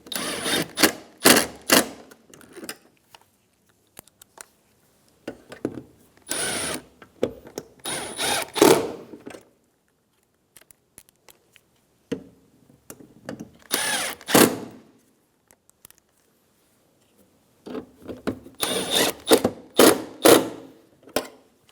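A power drill drives screws into a 2013–2017 Honda Accord front bumper cover, close and loud, in several separate bursts of whirring with quiet pauses between runs.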